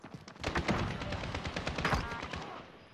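Bursts of automatic gunfire from Call of Duty Modern Warfare rattle quickly and fairly quietly during a tournament match, with a voice faintly under them.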